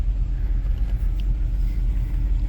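A 1954 Buick Super Riviera V8 with automatic transmission runs close by, a steady low engine rumble at idle with no clear starter crank and no one talking.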